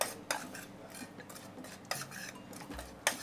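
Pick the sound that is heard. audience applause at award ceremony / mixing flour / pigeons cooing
mixing flour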